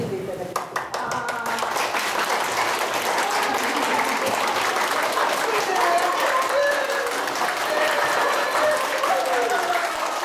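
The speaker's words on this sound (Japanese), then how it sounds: "で、拍手していただきます。" A standing audience at a members' general meeting claps loudly and continuously, a dense close patter with voices talking and calling out underneath.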